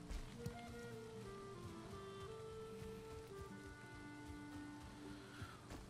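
Steady rain in the video game Valheim patters continuously over a low background hum with tonal music-like notes, no talking.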